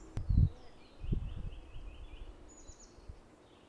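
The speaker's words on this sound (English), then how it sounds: "So there's some nuthatch in this tree in front of me" Woodland bird song with nuthatches in a nearby tree: faint high chirps and thin whistled calls over a quiet outdoor background, with a few soft low thumps and rustles close by.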